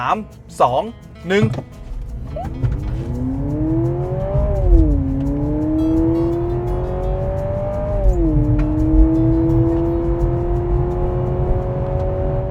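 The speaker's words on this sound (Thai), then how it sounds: "0 100 CRV RS ขับ 4โหมดสปอร์ต ใน 3 2 1" A Honda CR-V e:HEV RS in sport mode surges from standstill to 100 km/h, its engine note climbing in long rising sweeps with two brief dips as it shifts, heard from inside the cabin after a few spoken words.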